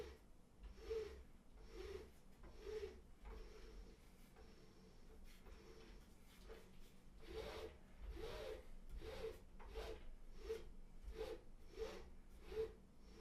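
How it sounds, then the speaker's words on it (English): A Thrustmaster TMX Pro force feedback racing wheel grinds with a dry, rasping friction as it turns, repeated short scraping strokes in a fairly regular rhythm, quiet and close with no talking. "When you turn the wheel, you can feel and hear friction."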